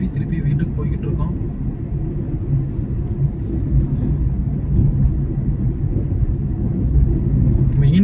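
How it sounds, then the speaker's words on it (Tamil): Steady low road rumble fills the cabin of a car driving along a road, with a voice speaking over the continuous drone. "கொஞ்சம் தூரம் டிரைவ் பண்ணி வண்டி யூட்டன் போட்டு திருப்பி வீட்டுக்கு போய்கிட்டு இருக்கோம்"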